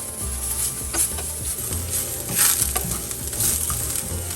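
Bottle gourd (lauki) peels stir-frying in a pan over a medium flame, with a steady close sizzle and repeated scraping strokes of a spatula stirring them, no voices.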